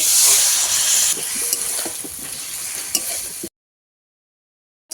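Spiced fish curry masala with potatoes and cauliflower hisses and bubbles loudly in the pan after a splash of water, with spoon scrapes, then cuts off abruptly to silence after about three and a half seconds.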